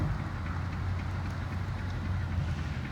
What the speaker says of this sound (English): There comes the green locomotive.